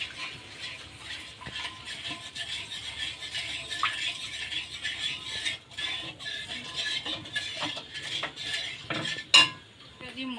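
Spiced curry masala with sugar being stirred in a pan, with a steady scrape and clink of a utensil against metal, a soft sizzle underneath and one sharper knock near the end.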